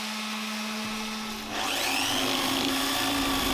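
Coarse 40 grit sandpaper strips surface rust from the steel bands of a whiskey barrel. A low steady hum gives way to a loud motor-like whine that winds up partway through and runs on continuously, close by.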